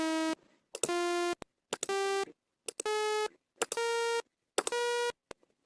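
An eight-note xenharmonic scale played back as five bright, buzzy synthesized tones with rich harmonics, each lasting about half a second with short gaps between them. The pitches shift slightly from note to note, and no voices are heard.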